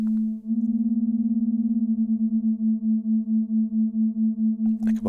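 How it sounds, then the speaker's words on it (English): A detuned stereo sine wave oscillator played through an Olivella Modular Imágenes Stereo Filter holds a steady pure tone with a few faint overtones, beating in a slow, even pulse that slows further as it continues. "And you have a stereo sine wave oscillator."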